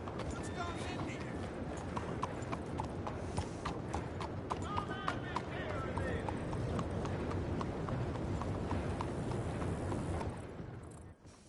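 Horse hooves clip-clop in a video game, a steady rapid trot under continuous noise and faint background sounds, fading out at the end.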